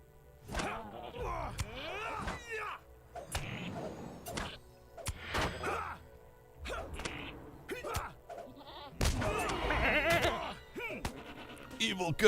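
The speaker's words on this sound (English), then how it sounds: "So let's get this evil goat." An evil goat in a video game lets out repeated bleats across the stretch, mixed with sharp whacking game sounds, while a voice talks over much of it.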